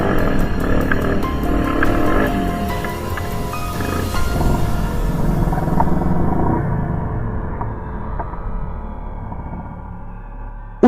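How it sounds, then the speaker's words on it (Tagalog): Several motorcycles ridden by a group of riders roar past at night in Surigao City, a loud continuous engine rumble that swells and slowly fades as they move away. "Parang natakot din ito at nagulat sa tunog na nagmumula sa mga motorsiklo."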